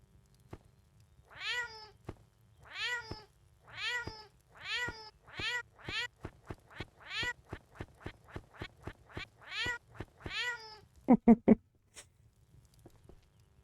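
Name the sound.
cat meowing in the video game Crestfallen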